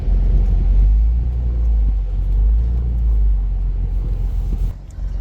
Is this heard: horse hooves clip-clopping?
no